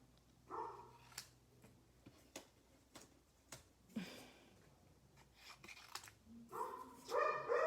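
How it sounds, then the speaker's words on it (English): Faint dog barks from some distance, a handful of short yaps scattered among soft clicks and rustling, louder toward the end. "if that barking is too much for you, you tell me"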